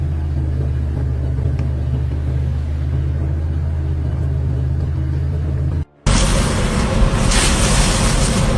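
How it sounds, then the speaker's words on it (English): A heavy truck crawls through deep mud puddles, its engine a steady, loud low rumble that cuts off abruptly for a moment and then returns as a harsher, brighter roar with sloshing noise. "the truck had to crawl through deep mud puddles"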